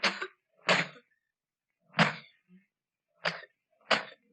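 A person gives five separate harsh coughs, spaced unevenly with short silent gaps between them, close and fairly loud.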